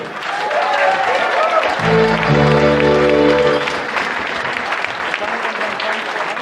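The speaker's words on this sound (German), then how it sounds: "Und ich darf Sie bitte einen herzlichen Applaus für unsere Helga Grube" A carnival-session crowd at a hussar-themed German Karneval gathering breaks into hearty applause, a thick sustained wash of clapping with a brief held musical chord sounding underneath midway before the clapping carries on slightly softer.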